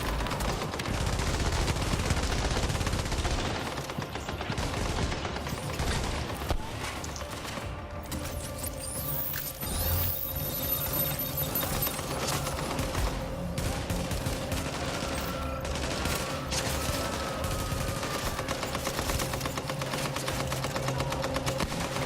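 Rapid bursts of video game gunfire while lining up headshots, dense rattling automatic shots continuing almost without pause at a loud, steady level, with game effects layered beneath.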